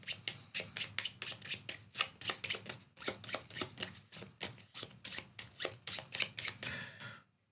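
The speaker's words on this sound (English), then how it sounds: "Shuffle this." A deck of cards being shuffled repeatedly during a tabletop board game, with quick riffling bursts in steady succession, close and fairly loud, alone without talk.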